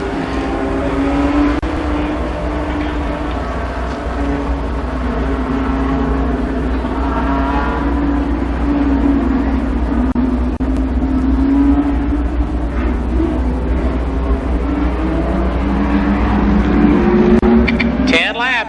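Late model race cars roar steadily around Columbus Motor Speedway during a 1993 heat race, engines droning loud and continuous throughout, with a public-address voice talking over the noise.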